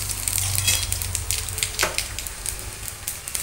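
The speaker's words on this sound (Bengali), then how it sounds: "কড়াইয়ে তেল দিয়ে পাঁচফোড়ন ও তেজপাতা সম্বর দিলাম।" Panch phoron and bay leaves sizzle in hot oil in a wok as the tempering for a vegetarian bori vegetable dish, a steady close frying hiss with small crackles.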